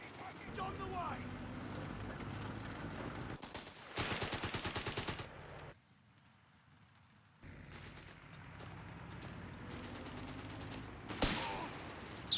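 Machine gun fire in Company of Heroes 3, with two emplaced guns laying down fast suppressing bursts, heard as sustained rapid rattling volleys that cut off, leave a quiet gap, then resume under battle noise, with a voice talking over much of it.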